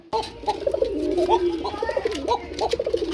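Pigeons kept for sale coo in a run of throaty, warbling calls. The coos are close and fairly loud, repeating in uneven bursts over a few seconds.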